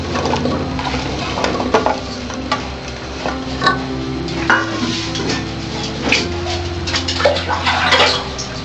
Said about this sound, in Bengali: এক লিটারের মতো জল দেওয়া, দিয়ে আমি প্রেসার কুকারটা বন্ধ করে দেবো।